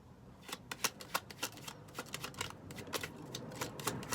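Tarot cards are shuffled and drawn in a quiet room, a faint, rapid run of soft riffling flicks and slaps that continues throughout without talk.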